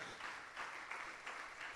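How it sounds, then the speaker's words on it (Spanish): Church congregation applauding during a Spanish-language sermon, a dense, continuous wash of many hands clapping at once, steady and moderately distant, with no clear voices over it. "Denle el aplauso al Señor, aleluya."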